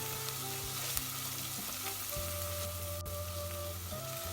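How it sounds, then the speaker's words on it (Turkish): About a tablespoon of dried mint sautés in a pan for a chickpea and bulgur köfte dish, giving a steady close sizzle and frying hiss throughout, with no talk. "Onda kokusu gidene kadar şöyle güzelce kavuralım."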